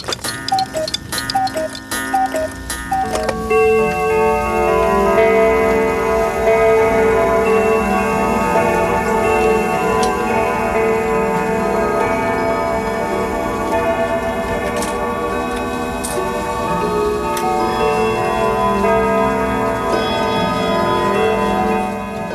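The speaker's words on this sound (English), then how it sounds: "My watch is broken, and so is Mrs. Squeak's old clock. It's a nice old clock." Several old clocks tick together in a shop full of clocks, steady overlapping ticking with ringing tones, loud and close, after a brief jumble of sharper strikes at the start, with no talk.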